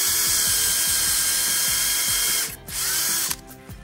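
A power drill with a slightly larger bit bores a snap hole through the leather of a beer holster, a steady close whine with a repeating ratcheting pulse, briefly dropping off near the end and then spinning again.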